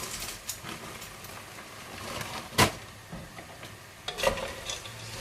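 Sliced mushrooms are stirred into a vegan chilli in a pan, with a soft sizzle beneath scraping stir strokes and a few sharper clunks of the utensil against the pan.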